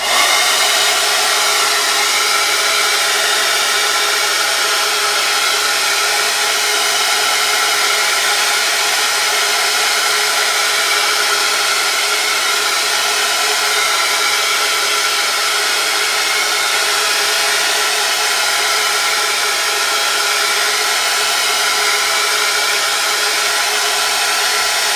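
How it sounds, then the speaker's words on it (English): A hair dryer blows continuously at close range to dry a journal page, a loud, steady hissing whir that holds unchanged from start to finish with no talking. "I'm going to just do the old hair dry treatment again."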